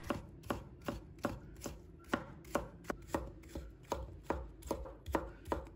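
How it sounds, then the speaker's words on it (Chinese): A knife chops food into thin strips on a cutting board, about a dozen crisp, evenly spaced close-up strokes knocking against the board at a steady rhythm, with no talking. "然后再切成细丝，这样吃起来会比较脆脆的"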